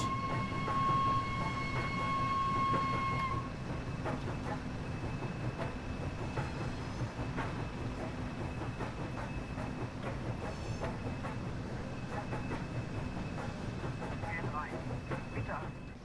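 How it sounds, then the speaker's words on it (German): A BR 01 steam train pulls into a platform in Train Sim World 4, rolling with steady rumble and rhythmic wheel clatter while a high whine fades early and a constant hiss carries throughout. "So, der Zug ist gleich komplett am Bahnsteig."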